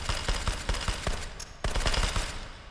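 Suppressed MP5 submachine gun in the VR game H3VR, 9mm, firing several quick bursts of muffled, rapid shots with a short pause in the middle, close and loud, no talking.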